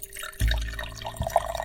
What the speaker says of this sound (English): Sterling poured himself a glass of whiskey, staring at his reflection in the liquid before taking a sip